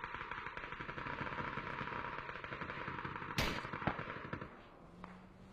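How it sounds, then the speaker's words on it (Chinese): Gunfire in a PUBG esports match, rapid automatic bursts sounding continuously at a distance with a sharp louder crack near the end, then fading. "啊，是 XLG 那边在猛抽 RBS 的枪声。"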